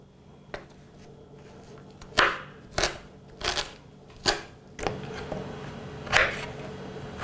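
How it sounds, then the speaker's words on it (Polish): Potatoes being diced with a knife on a cutting board at home for carrot-top soup. Several separate, close chops and taps land at irregular intervals over quiet kitchen background, with no talking. "Ziemniaczki kroimy w kosteczkę."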